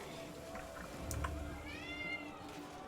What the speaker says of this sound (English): Don't worry about the cat in the background.